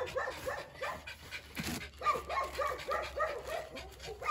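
A dog whimpers and gives short yips and barks close by, repeated in quick uneven bursts at a modest level.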